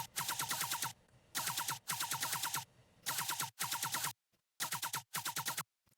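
A choppy dubstep laser synth played without volume automation: five loud bursts of rapid, stuttering bright tones, each about half a second to a second long, separated by short gaps, with no voices.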